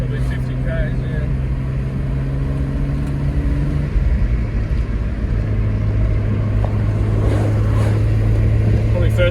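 Manual Nissan Skyline R31 wagon on the road, a steady engine drone with tire and road noise and shifting tones as gears change, running under occupants' conversation inside the cabin.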